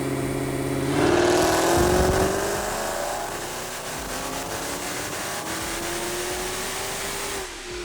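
A demon-swapped Jeep Trackhawk engine revs hard, with pitch climbing in rising sweeps under a loud, rough roar, close and sustained with no talking.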